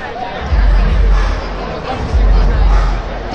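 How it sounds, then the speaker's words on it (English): Crowd noise fills a baseball stadium during a Thursday night Nationals vs Braves game: a steady, fairly loud hubbub of chatter with scattered claps swelling twice, no one speaking close by. "Background of the claps around the stadium"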